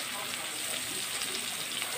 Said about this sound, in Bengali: এবার পেঁয়াজগুলো লাল লাল করে ভেজে নেব